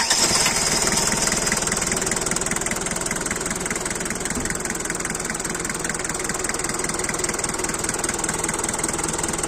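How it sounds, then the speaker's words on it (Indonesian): A Daihatsu Taft Rocky diesel engine idling close by: a loud, steady, rapid knocking clatter with an even rhythm throughout and no voices. "Nah, ini dia teman-teman suara mesinnya ya."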